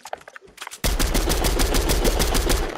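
Gunshots in a video game: a few scattered single shots, then a loud, rapid automatic burst firing without pause for about two seconds, close and harsh.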